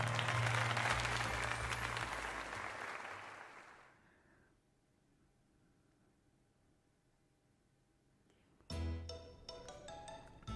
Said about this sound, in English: Now then, let us give another heartfelt round of applause to Nitsua.